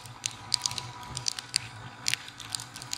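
Rain comes down during a motorcycle ride on a Royal Enfield Himalayan toward Mussoorie, heard as scattered close patters and light taps over a low rumble, with no speech.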